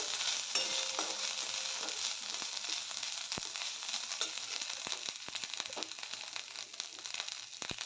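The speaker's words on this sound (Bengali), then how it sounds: "এবার আমি আদার পেস্টটা দিয়ে ভালোভাবে এটাকে নেড়ে চেড়ে ভেজে নেব।" Ginger paste fries in a pan, a steady close sizzle and crackle broken by sharp scrapes and clicks of stirring, with no voices.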